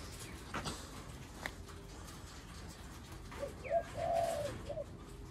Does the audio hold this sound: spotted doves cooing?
yes